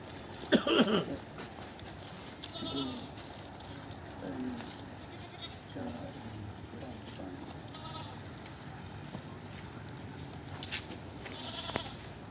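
Goats bleat at the Bargari goat market in Punjab. One loud, close bleat comes near the start, then fainter bleats and murmuring voices continue in the background of the open-air market.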